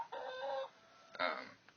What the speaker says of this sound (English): all of the chickens we keep close to home are the ones that we raised